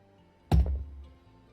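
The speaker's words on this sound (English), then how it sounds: "It's a satisfying thud." A heavy, brand-new metal die drops onto a table during a tabletop role-playing game session and lands with a single, close, solid thud that fades out quickly.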